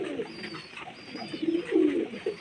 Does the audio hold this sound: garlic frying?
no